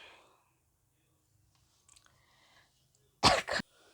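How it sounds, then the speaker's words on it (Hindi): A single sharp, close cough breaks a near-silent stretch, a quick double burst, with faint rustling before it. "खांसी आ गई।"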